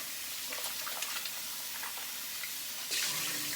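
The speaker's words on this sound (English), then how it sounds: "So we're just gonna give this a quick rinse." Running tap water rinsing brined meat for Jamaican stew peas, a steady splashing hiss with a louder gush near the end, no talking.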